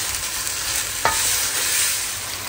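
Rice stir-fried with vegetables in a pan gives a steady, close sizzle of frying, with one brief scrape of stirring partway through and no voices.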